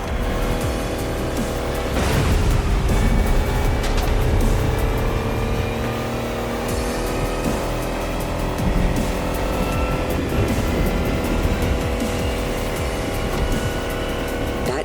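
An electric race car tears through a stormy tempest in The Crew Motorfest, its high-speed motor whine loud and continuous, with tire noise and a sharp surge near the start and again partway through; no talk.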